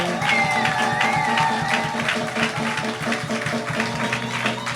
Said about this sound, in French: On va acclamer notre Dieu